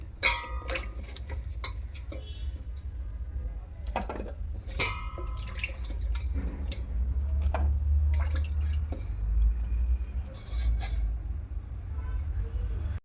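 Sweet potatoes are washed by hand in water in a kitchen, with scattered close splashes, drips and knocks over a steady low hum, while a voice talks now and then.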